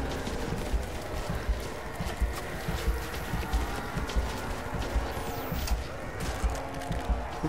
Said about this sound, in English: Oh, this big golden horse.